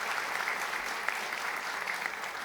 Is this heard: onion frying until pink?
no